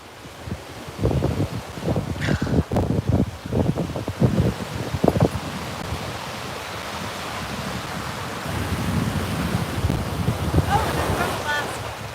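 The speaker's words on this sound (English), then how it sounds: "The sound of the waves?" Ocean waves wash onto a Florida beach at Lauderdale-by-the-Sea under gusty wind, with heavy rumbling wind buffeting the microphone in bursts and a steadier surf roar later.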